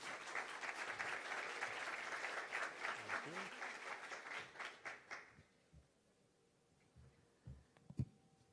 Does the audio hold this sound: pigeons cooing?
no